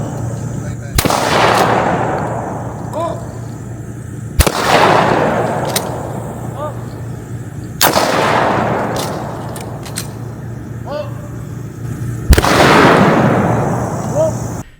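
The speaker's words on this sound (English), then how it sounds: "We were also shooting some unsuppressed guns at the same time, so you can see the difference between suppressed and unsuppressed shots." Shotgun blasts at an outdoor skeet range, fired both through a YHM V-12 modular suppressor and unsuppressed: four sharp, loud reports spaced a few seconds apart, each trailing off into a long open-air echo.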